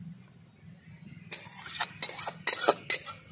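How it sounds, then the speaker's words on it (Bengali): A home-cooked Bengali fish curry of small charapona fish with peas and potato being poured from the pan into a bowl: a quiet start, then a run of metallic clinks and scrapes of utensil against cookware. "গামলাটাই ঢেলে দেবো আজকে।"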